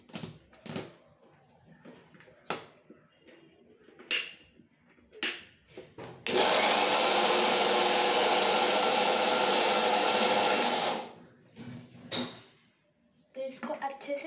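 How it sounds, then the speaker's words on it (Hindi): A kitchen blender crushes strawberries for a strawberry shake, a loud, dense whirring burst lasting about four seconds, set between stretches of talking and clattering handling noises. "तो मैं ब्लेंड करता हूँ, तो अभी मैं ब्लेंड करूँगा ये।"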